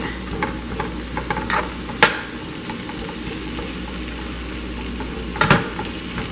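Onions sizzle steadily in a pan, with occasional sharp clinks and scrapes of a utensil stirring.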